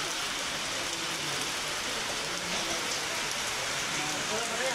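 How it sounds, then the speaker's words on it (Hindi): Heavy rain pours steadily at Jageshwar temple, a dense, even hiss that fills the whole stretch, close and loud with no letup. "बारिश बहुत ज़्यादा आ रही है"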